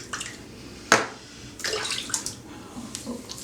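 Tap water runs and splashes in a bathroom sink during a rinse after a full razor head shave, a steady close wash with a sharp splash near the start and fluctuating flow throughout, no talking.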